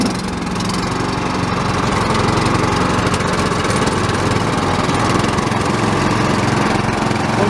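A Chestona 500 lawnmower engine runs at full throttle, a loud, steady, buzzing roar with a rough low throb, close up and constant throughout, with no voices.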